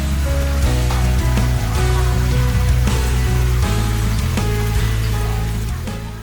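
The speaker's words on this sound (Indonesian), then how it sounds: "Aku suka sih suara air begini" Water spilling from a small waterfall into a large fish pond beside a gazebo at an outdoor restaurant, a loud, steady splashing rush that fills the scene without voices.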